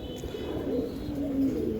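A racing pigeon coos softly and close by, low murmuring calls over a faint background hum.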